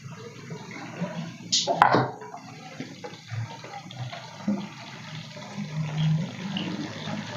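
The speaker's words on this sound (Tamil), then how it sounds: "மிக்சி சாரை அலசி வச்சுருக்குறோம் அந்த தண்ணியை சேர்த்துக்கோங்க" Water used to rinse a mixer jar splashes and trickles into a pan of Tamil fish curry amid clattering, with a brief sharp clink near the start.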